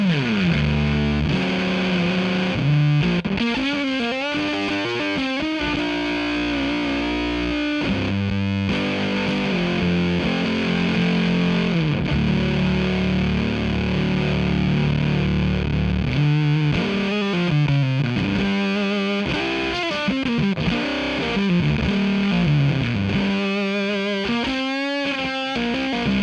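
A guitar plays through a germanium fuzz pedal tested at cold temperature, thick and saturated, with chords and sliding notes filling the whole stretch with no talking.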